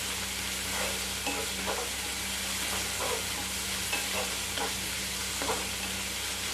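Tomato and green chilli thecha being stir-fried in a pan, a low even sizzle with a soft background hum and a series of gentle spatula scrapes at an irregular pace, without speech.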